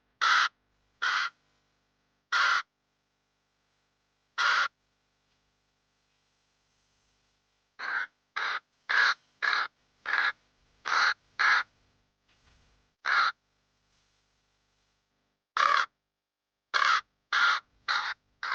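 A cartoon crow caws in short, separate bursts, alone against silence, with several quick runs of calls and gaps between them.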